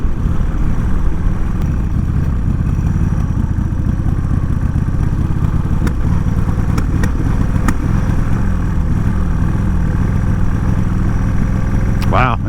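A motorcycle that has sat unused for a long time runs rough close by, a loud, uneven engine rumble with intermittent clatter and knocks, ending in a brief rising squeal; no speech is heard.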